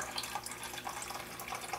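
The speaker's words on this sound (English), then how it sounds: "So we're going to go ahead and put the rest of the water in there." Water is poured into a mix of paint for metal finishing, a faint, close trickling and splashing with small bubbly drips running steadily, no talk over it.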